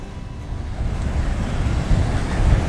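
Windy coastal shore with waves washing in, a low continuous rumble of surf and gusting wind buffeting the microphone, swelling slightly toward the end; no speech.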